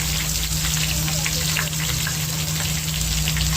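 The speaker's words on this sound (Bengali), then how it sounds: "একটু হালকা করে ভেজে নেব" Vegetables, including ridge gourd, fry in a pan with a steady, loud, close sizzle that keeps going without a break.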